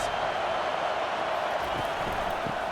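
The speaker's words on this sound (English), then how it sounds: "Listen to this crowd just shaking the girders of this place, trying to help their defense." A stadium crowd roars during a spring football tournament semifinal, a dense, steady wall of noise held at constant volume for the whole stretch.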